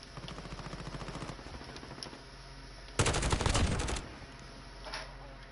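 Automatic gunfire from a real-gun weapon in Call of Duty, steady rapid bursts through the first seconds, then a louder dense volley around the middle, and a fainter burst near the end.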